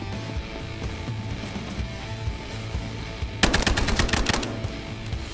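In Battlefield Hardline, a weapon fires one loud, rapid burst of about a dozen shots after several seconds of quieter background game audio and music.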